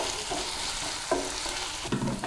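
Ginger garlic paste sizzles with onions in a pan for a chicken liver fry, with steady frying hiss and a few stirring scrapes of a spoon against the pan, close and fairly loud.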